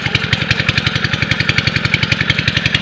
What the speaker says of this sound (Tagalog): Pasensya na po kayo sa malakas na ingay. Yung patubig, yung makina.